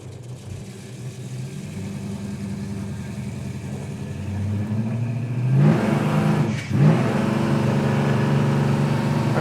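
A 1969 Plymouth Roadrunner's 383 V8 with dual exhaust rumbles at idle, then revs up with a rising roar, dips briefly and settles back to a loud, steady, close running note.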